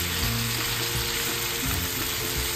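Bitter gourd (ampalaya) sautéing in a pan is stirred, a dense steady sizzle heard close with low stirring rumbles underneath and no speech.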